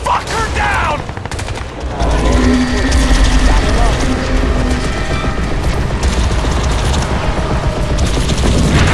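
Sustained gunfire in the shooter game Crysis 2, dense loud bursts of automatic weapons that keep going without pause, with voices shouting over the shooting and mechanical clatter underneath.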